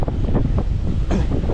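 Headwind roaring across a microphone while cycling on a road, a loud, steady buffeting rush with gusty surges and no voice.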